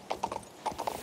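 Horse hooves clip-clopping in the King's Bounty 2 video game, a quick, rhythmic run of hollow hoof clops in two bursts, close and clear, with no speech.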